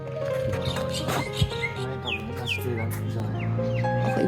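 Chickens clucking at local temple grounds in Prachuap Khiri Khan province, Thailand, a busy flock of close clucks and short calls over steady ambient noise.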